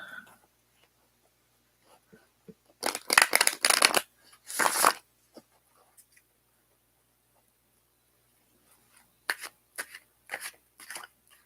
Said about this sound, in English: I always forget this deck is stiff. I have to shuffle it a different way.